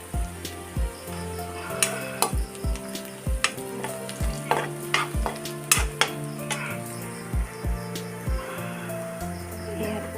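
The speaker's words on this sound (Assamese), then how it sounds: "হালধি মই পিঁয়াজ ভাজিলেই দিওঁ" Sliced onions with turmeric frying in oil in a pan, a steady close sizzle with rhythmic scraping and clinking of a metal spatula stirring against the pan throughout, no talking.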